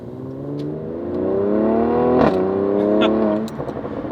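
A Mercedes-AMG C43 Cabrio with a V6 engine revs hard, its exhaust note climbing and swelling loudly before a crackle and a few sharp pops as the revs drop, recorded close by.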